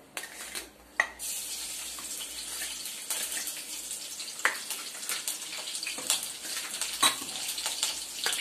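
Four green chillies dropped into about one and a half spoons of hot oil in a kadhai for Malvani-style methi bhaji, with a crackling sizzle and sharp spatters, a few louder bursts and stirs, close and without talk.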